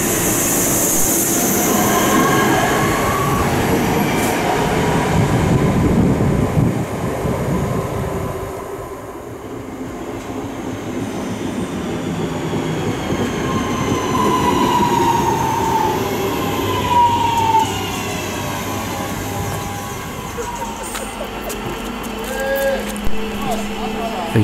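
A Class 323 electric train runs close by with a continuous loud rumble, rail noise and squealing wheels for the whole stretch, and a voice talks over it.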